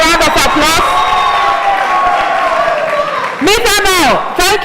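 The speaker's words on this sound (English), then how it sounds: "A round of applause." A crowd cheers and claps at a university gas challenge contest, with voiced whoops and shouts over a steady wash of applause that swells again near the end.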